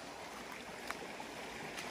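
A flowing stream in a rural durian-growing area gives a faint, steady watery rush, continuous and distant-sounding with no distinct events.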